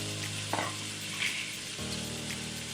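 Onions frying in a pan on medium heat: a steady close sizzle with a constant electrical hum beneath it and a couple of soft clinks and stirring sounds.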